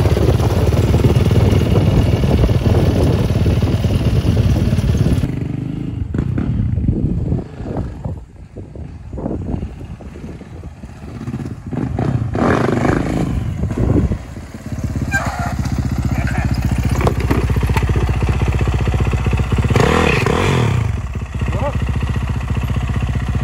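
A Yamaha YZ450F dirt bike doing a burnout, its engine roaring loud and close with revving surges and dips throughout, wheel spin rising and falling in waves.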